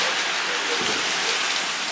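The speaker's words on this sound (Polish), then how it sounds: "dalej pada." Steady rain patters densely on a surface, a constant close hiss of drops with no talking.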